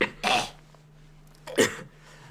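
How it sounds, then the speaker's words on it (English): A man gives two short, harsh coughs about a second apart, close and fairly loud, with quiet between them. "I actually have kind of a cough"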